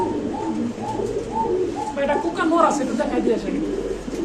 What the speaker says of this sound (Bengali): এখানে আছে কোনো সিলভার লাহোরি কবুতর আপনি দেখতে পাচ্ছেন